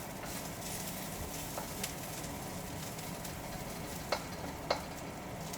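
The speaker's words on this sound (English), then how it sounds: "I did more than sauteing my onions." Onions sautéing in a pan over lowered heat give a steady, quiet frying hiss throughout, with a few brief clicks near the end and no talking.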